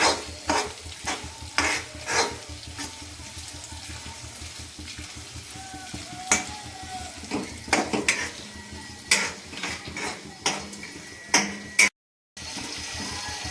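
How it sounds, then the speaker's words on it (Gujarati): Green turmeric roasts in plenty of ghee while a spoon stirs it, giving a steady close sizzle with repeated metallic scrapes and clanks against the pan and a brief gap near the end. "હળદરને આપણે ઘીમાં એકદમ ચારથી પાંચ મિનિટ સુધી શેકી નાખશું"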